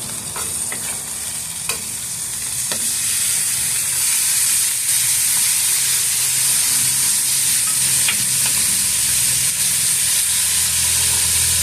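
Smash burger patties on a hot gas grill give off a loud, dense, continuous sizzle and hiss, with a few sharp scraping clicks near the start as the spatula flips them. The sound is close and steady, with no voices.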